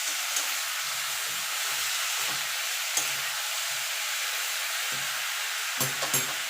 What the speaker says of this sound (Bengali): দিয়ে দেবো 4-5টা কাঁচা লঙ্কা ঝালটা আপনাদের স্বাদ মতো দেবেন এবার নেড়ে চেড়ে দেবো